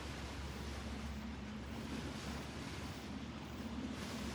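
Sea waves washing continuously under wind with a low boat engine rumble passing offshore, steady and fairly faint, with no voices.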